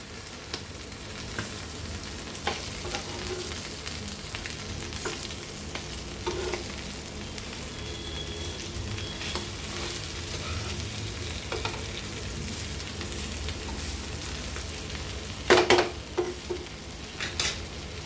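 Chicken liver (kaleji) sizzles steadily as it fries in a pan, a constant close hiss with occasional clinks and stirring scrapes near the end.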